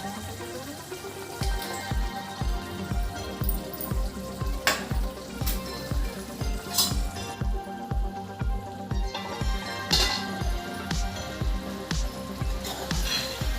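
Egg, dried fish and raw mango curry cooking in a pot, a steady bubbling sizzle with a regular rhythmic ticking pulse running throughout, no talk.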